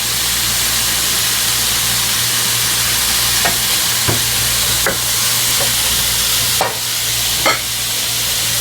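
Garlic and pepper frying with shrimp in butter, a loud continuous close sizzle and hiss, broken by a few soft clicks and taps of a utensil against the pan, with no talk.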